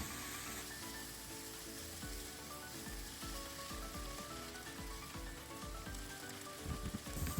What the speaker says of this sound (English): add the chopped onion and fry on medium heat